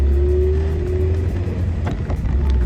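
A 1970 Citroen DS engine hums steadily and smoothly at low pitch while driving, with a faint rising whine and a couple of light clicks.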